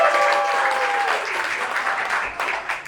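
An audience breaks into a short burst of clapping, a dense patter of many hands that swells briefly and then tapers off within a few seconds.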